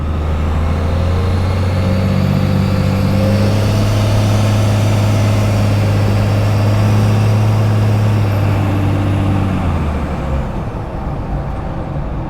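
A 1st Gen Cummins diesel truck fitted with a new Suncoast torque converter drives slowly down a driveway, its loud, steady low engine drone rising slightly in pitch and then easing off near the end, with no talking.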